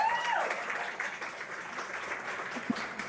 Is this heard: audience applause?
yes